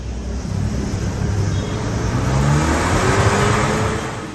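The engine of a 1964 Land Rover revs steadily at a truck repair workshop during carburetor and throttle tuning, a loud, continuous mid-range drone that swells slightly midway with no speech.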